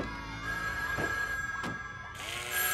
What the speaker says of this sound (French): Bah, c'est mon téléphone secret.